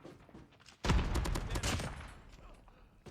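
SKS rifle shots in a video game, a sudden loud burst of several quick cracks that trails off into fainter echoes.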